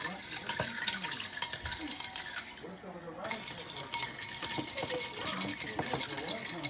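A spoon stirs in a cup, giving faint, irregular clinks and scrapes at close range, with a voice speaking briefly alongside.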